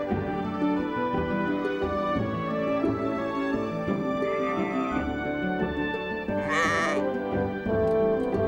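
Sheep bleat repeatedly after being bathed in a sheep-dip trough on a farm, several loud, wavering calls overlapping one another against a busy background.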